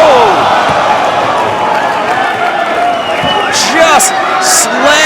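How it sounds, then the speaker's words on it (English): A wrestler is slammed from the top rope onto a table at a live wrestling event, a heavy crash under loud crowd noise, cheering and excited commentary. "Just slammed Kingston from the top rope to the table"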